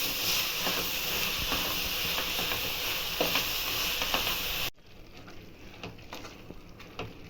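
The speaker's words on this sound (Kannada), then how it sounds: "ಮಸಾಲೆ ಹಾಕ್ಬಿಟ್ಟು ಒಂಚೂರು ಎಲ್ಲ ಫ್ರೈ ಮಾಡಬೇಕು ಚೆನ್ನಾಗಿ" Masala frying in a pan for a mixed sprouts sambar, a steady close sizzle with light scraping and stirring that drops sharply quieter partway through, then continues as a softer crackle.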